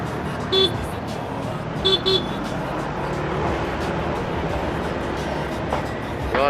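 Horn blasts from a motorcycle in road traffic, sounding as a warning to a vehicle in a blind spot, with two short toots and then a double toot standing out over steady traffic noise while someone talks.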